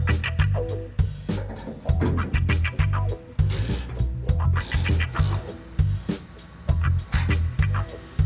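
Bolts being tightened on a Hemi engine with a ratchet wrench, heard as repeated rhythmic clicking strokes, loud and close, with metallic clatter and no talk.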